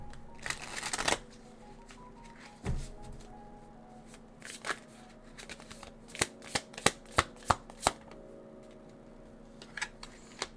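Tarot cards are shuffled in quick riffling bursts, then slapped and tapped down in a run of crisp, close clicks, with short pauses between.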